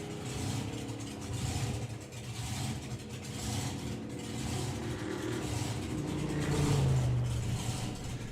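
Supercharged outlaw drag car at a drag racing event, passing beneath the tower with a mid-pitched engine roar that builds and swells toward the end, heard from a distance amid crowd ambience.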